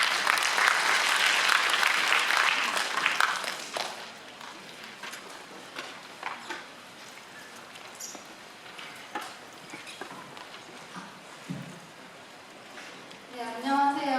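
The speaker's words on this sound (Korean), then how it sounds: "박수로 환영해 주시기 바랍니다." Audience applause welcomes a company presenter at a job-success case event, loud and dense for about four seconds, then fading into scattered claps and room noise.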